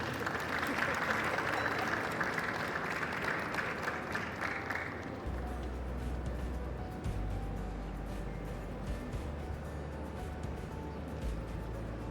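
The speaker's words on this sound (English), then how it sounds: "giving him a good of applause to welcome." An audience at an automotive launch event applauds to welcome a trade minister, a fairly faint clatter of clapping that fades after a few seconds, followed by a low rumbling background hum.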